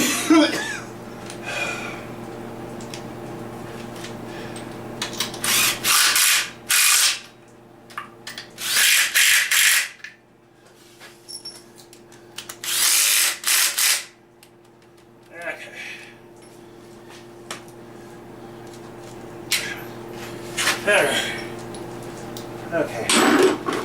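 A power tool drives torque converter bolts into a 1997 engine in bursts of whirring and rattling, separated by pauses with someone talking and some clanking of tools and parts.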